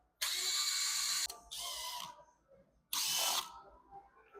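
A power ratchet loosens 8 mm bolts on the upper intake of a 6.7 Powerstroke diesel engine, giving three loud, close whirring bursts with short quiet gaps between them.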